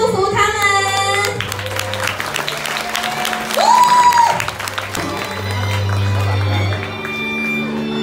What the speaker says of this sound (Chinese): 那我们要来掌声，有请我们的洪先生、洪太太，幸福前进，祝福他们